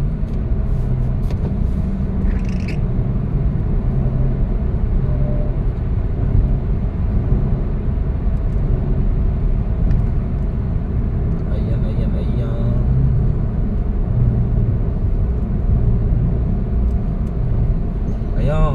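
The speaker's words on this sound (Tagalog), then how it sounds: "marami pong sasakyan" Heavy road traffic on a busy city road near Commonwealth Avenue, many cars and larger vehicles rumbling past continuously with a loud low engine roar, a few brief higher squeals and horn-like tones on top.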